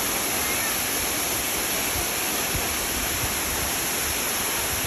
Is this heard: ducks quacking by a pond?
no